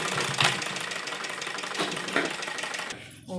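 A sewing machine runs a seam along an embroidered lined suit, giving a brief, continuous rattling whir with a few louder knocks, close and clear, before cutting off into a short rustle.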